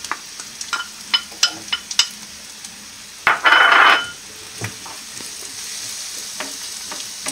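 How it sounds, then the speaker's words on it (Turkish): An onion fries in a pan with a steady sizzle under a run of clicks and taps from a utensil. One loud, rushing burst of hissing comes midway, then the sizzle settles back to a constant hiss. "Şimdi 1 adet soğan kavuruyoruz."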